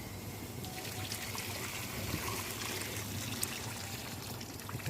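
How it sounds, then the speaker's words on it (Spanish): Hot fish broth poured into a pan of rice as a steady, close, continuous liquid stream with a faint trickle, no talk over it. "echaremos ya el caldo de pescado que ya está previamente caliente"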